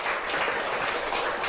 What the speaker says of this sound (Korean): 우리 하나님께 영광의 박수 한번 돌리겠습니다